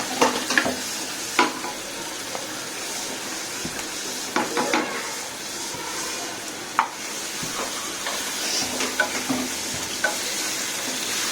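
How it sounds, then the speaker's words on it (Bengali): Shrimp frying in a pan with ginger-garlic paste being stirred in, a steady sizzle broken by repeated scraping strokes of the spoon at close range, with no talking. "এখন একটু নাড়াচাড়া করে এটাতে এখন দিব আদা বাটা, আদা রসুন বাটাটা"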